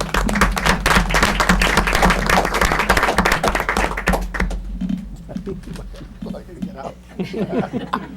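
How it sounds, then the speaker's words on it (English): Audience at a school committee meeting clapping for a manager, a loud burst of close hand claps lasting about four seconds, then fading into chuckles and talking voices in the room. "How about a round of applause for Mr. Manager?"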